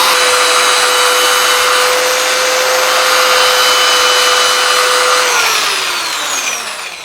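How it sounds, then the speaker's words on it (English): An electric sander runs steadily and loudly against a wood-turned goblet, smoothing out tear-out, its whine holding constant before dropping in pitch as it winds down near the end; no talking. "I will take my sander and I will just sand it out"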